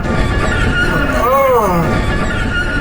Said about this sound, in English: The horse is here.